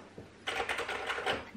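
Keys tapped on a Sharp 4500 laptop keyboard: a short burst of quick, close clicking that starts after a brief pause and runs for about a second.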